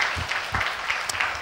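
A church congregation at a Korean Methodist service claps together, a fairly soft, slightly distant patter of many hands with a few louder surges, no speech over it.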